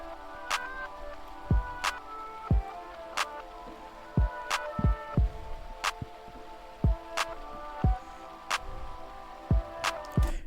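A full programmed beat with sharp clap hits cutting through steadily, deep kicks and a sliding 808 bass underneath, plus a soft melodic tone, looping evenly for about ten seconds with no talking.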